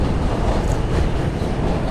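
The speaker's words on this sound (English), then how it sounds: "Oh, there's the J train." A New York subway J train rumbles past outdoors in cold weather, a loud, steady, broadband roar of wheels and cars with no pauses, close by.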